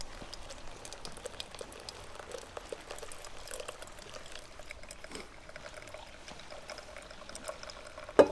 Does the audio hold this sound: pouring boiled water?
yes